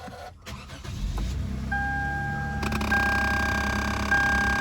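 A car engine cranks briefly and catches, settling into a steady idle hum alongside a faint electronic whine.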